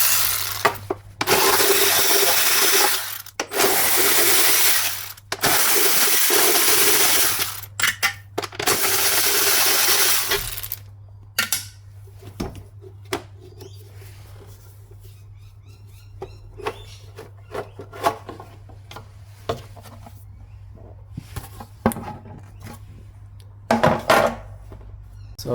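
Power ratchet spinning out 10mm cover bolts on a Subaru Impreza G3 2.0L engine during timing belt work, loud whirring bursts at first, then sparse metallic clicks and clinks of bolts and tools, close with no talk.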